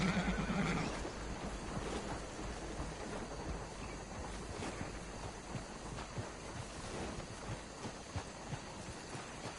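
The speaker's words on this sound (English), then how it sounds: "take care of that horse there" A horse whinnies loudly at the start, followed by continuous hooves clopping and rustling movement with a windy, synthetic game-like background, from the video game Red Dead Redemption 2.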